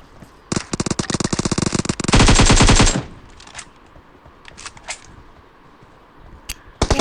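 Machine gun fire from a video game as bots are shot: a loud, rapid burst of automatic shots for about two and a half seconds, then a few scattered single shots and clicks.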